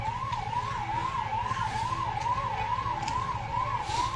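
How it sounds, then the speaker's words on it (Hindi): An ambulance siren wails in a steady, rising and falling cycle, loud and unbroken, from a vehicle stuck in a long traffic jam after an accident, over a low rumble of idling traffic. "अब एम्बुलेंस खुद जाम में फंसती हुई घायलों को ले जाया जा रहा है और वो ही अब जाम में फंसी हुई है"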